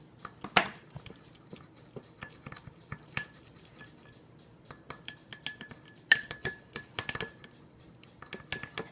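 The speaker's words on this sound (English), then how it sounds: "Now I'm going to stir that." A utensil stirs a lip balm mixture in a glass container, making sparse light clinks and taps that scrape against the glass, faint and close, with no talk.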